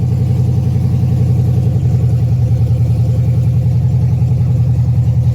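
A Ford engine runs right after start-up at a fast idle, with a check-engine light on, no O2 sensor, and exhaust work still pending. It makes a loud, close, steady rhythmic rumble and throb with light clatter, with no talking.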